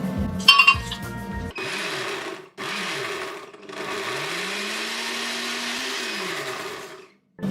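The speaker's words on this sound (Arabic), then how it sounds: "انا جهزت الخلاط هون ورح نحط هدول" An electric blender whirs loudly in several bursts blending rice and a little water, its motor pitch dipping and rising as it churns, with brief pauses between runs.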